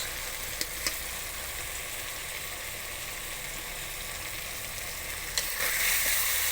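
Chicken fried rice being stirred in a pan, restaurant-style Chinese cooking: a steady, even sizzle of frying runs throughout, with a few faint scrapes of a utensil and a brighter burst of sizzling near the end.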